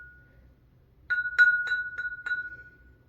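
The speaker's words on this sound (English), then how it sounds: "it's like a bell made of glass" A small glass bell is rung about five times in quick succession, giving clear bright chimes that ring out close against a quiet room.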